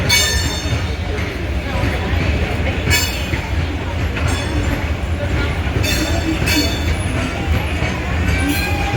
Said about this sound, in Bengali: টয় ট্রেন চলে এসছে